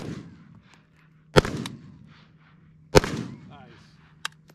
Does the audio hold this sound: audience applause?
no